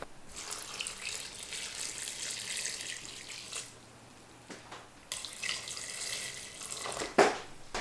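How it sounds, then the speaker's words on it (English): Water runs steadily from a tap into a pot to cover dry soy curls, about five cups, with a bright continuous splashing that briefly stops and restarts. "And then I'm just going to put enough water in here to cover everything."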